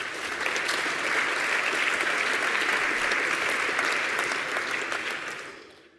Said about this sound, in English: So give applause